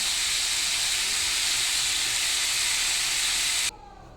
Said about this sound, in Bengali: কষিয়ে নিয়ে এটা জল ঢেলে দেবো